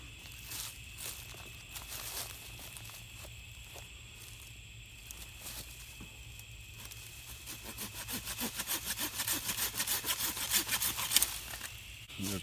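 A Corona hand saw from Lowe's cuts wood for a bow-drill spindle, giving rasping back-and-forth strokes that grow louder and quicker toward the end, close by with no talk.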